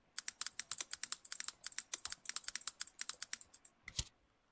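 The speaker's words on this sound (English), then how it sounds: "go ahead and type Google Business Verification" Close, crisp keystrokes on a keyboard as a search query is typed, a fast irregular run of clicks with brief pauses and a final louder tap.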